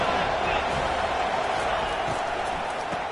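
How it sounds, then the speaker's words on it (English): A stadium crowd roars steadily in a PS5 American football game on third down, a dense wall of noise that holds loud throughout while a commentator talks over it. "Decibels rising as the crowd gets behind this defense on third down."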